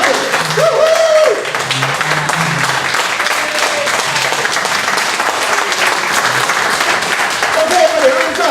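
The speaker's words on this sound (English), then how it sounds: "Let's have another round of applause for Kathy." A meeting audience gives a round of applause to honour the chairperson, lively clapping that runs throughout, with people calling out and talking over it.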